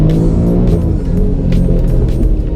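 An Alfa Romeo Giulia Quadrifoglio driven hard with its electronic aids off on cold tires, the engine a loud, steady, close rumble from inside the car with no pause.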